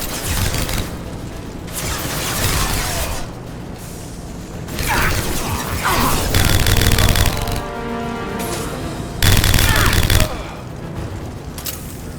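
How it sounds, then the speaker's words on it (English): Bursts of automatic gunfire from Blue Suns mercenaries and Vorcha in a Mass Effect firefight, loud clusters of rapid shots separated by short lulls, with mechanical clatter and rumbling between volleys. "The Blue Suns and Vorcha shooting anything that moves."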